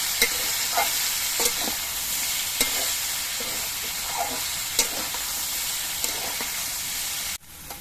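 Taro stolons frying with turmeric powder in a pan, a close steady sizzle with periodic scraping stirs, no talk, ending in a sudden cut.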